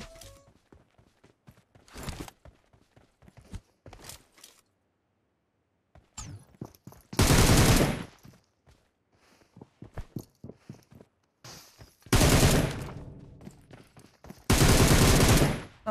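Three loud bursts of automatic gunfire from the mobile battle royale PUBG Mobile, each lasting about a second, ring out between quiet stretches of light footsteps and equipment clicks.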